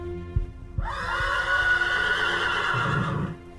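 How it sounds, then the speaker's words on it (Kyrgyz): A horse gives one loud, long, wavering whinny lasting about three seconds, close and clear, preceded by a couple of soft thumps, with no talk. "аттары кишенегенде"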